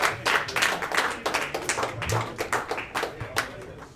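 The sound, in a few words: audience round of applause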